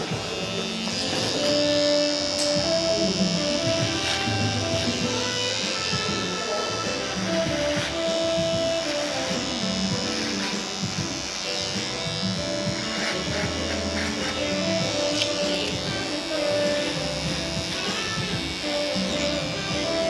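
A slim-line cordless hair trimmer buzzes steadily and loudly throughout a low fade haircut, a continuous close-up electric whine with slight shifts in pitch as the clipper moves over the hair.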